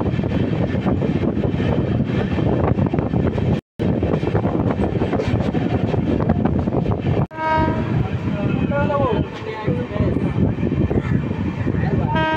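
The Kanchanjunga Express, running with LHB coaches, rumbles along the tracks in a loud, steady roar heard from aboard, broken by two brief dropouts, with a horn-like tone and some talk toward the end.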